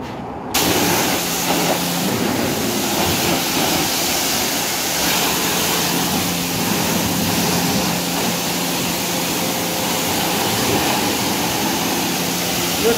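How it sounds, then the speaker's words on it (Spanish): High-pressure water spray at a coin-operated car wash hisses steadily and loudly for the whole stretch after a brief quiet start, a dense continuous rushing noise. "Escogemos la opción de agua en alta presión."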